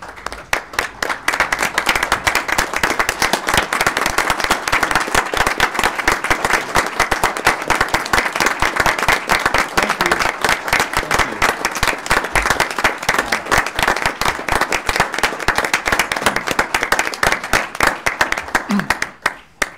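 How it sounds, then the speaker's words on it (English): A town council meeting audience rises for a standing ovation for city manager Mark, with dense, sustained clapping that stays loud and steady for about twenty seconds and a few voices mixed in. "we should give Mark a standing ovation for his time"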